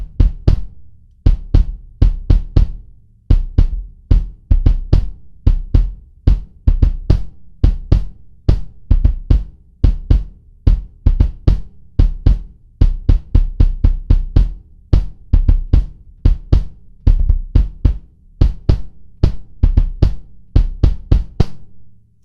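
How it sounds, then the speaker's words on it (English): A 24x16-inch 1980s Tama Superstar Super Mahogany kick drum struck with a Dixon precision coil single pedal, close and booming, with repeated deep thumps in steady rhythmic bursts and short pauses between groups, played solo. "So the last thing that we need to hear is the kick."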